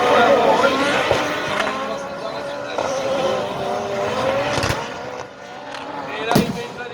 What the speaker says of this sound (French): le leader qui rentre dans le joker, Jean-Jacques, le pilote russe